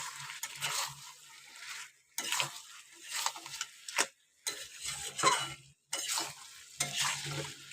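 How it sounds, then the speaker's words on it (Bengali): Meat and pre-fried potatoes being stirred and sautéed in a pan, with scraping strokes in bursts separated by short pauses and a soft sizzle beneath, close and moderately loud. "আলুটা দিয়ে দেব। দিয়ে আবারও সেম ভাবে কষিয়ে নেব আলু আর মাংসটা।"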